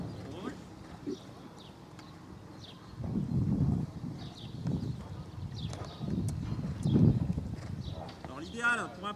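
A horse being worked on a lead, likely a young foal, hooves clopping in a steady walking rhythm at moderate distance, with someone talking over it and birds faintly in the background.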